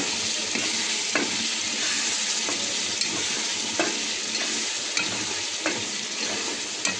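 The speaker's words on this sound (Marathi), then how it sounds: "आता आपला मसाला चांगला फ्राय झाला असेल, फ्राय झाले सगळं तेल सुटेपर्यंत चांगला" Masala for palak paneer fries in oil in a pan, a steady close sizzle with occasional scrapes and taps from stirring.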